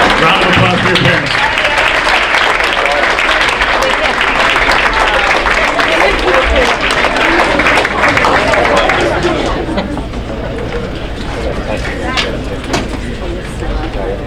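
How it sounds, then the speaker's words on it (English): An awards-ceremony audience at a varsity athletics event applauds their parents in a loud, continuous round of clapping with crowd chatter, easing slightly toward the end. "Please, stand up. Round of applause for your parents."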